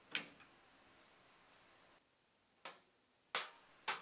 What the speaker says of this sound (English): And you want to get the portafilter in there nice and snug.